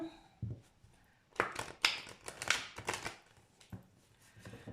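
Tarot cards for a nine-card spread are laid out and covered on a table. Soft papery slides and taps come in a loose series, some louder swishes among them, with a quiet voice briefly at the start.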